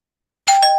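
A ding-dong doorbell sound effect played by mistake, heard as a single loud, bright two-tone chime that starts abruptly after silence and rings on clearly.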